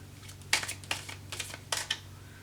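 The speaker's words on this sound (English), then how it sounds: "Having a hard time shuffling today." Tarot and oracle cards are shuffled by hand at close range, producing soft, irregular bursts of riffling and slapping against a quiet room with a low steady hum beneath.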